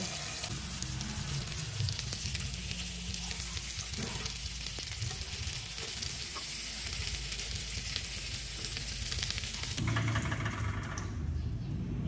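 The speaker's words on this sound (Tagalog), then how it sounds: "Kaya ito yung ginagawa ko pag nagluluto ako ng hotdog. Para maprito." A hotdog fries in a little oil, giving a steady, dense sizzle that runs unbroken and fairly close throughout, with a brief shift in tone near the end.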